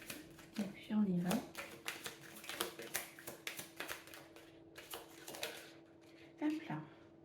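Tarot cards handled and drawn from a deck, a run of quick crisp card snaps and shuffles with soft rustling between them, close up, with brief talk in places.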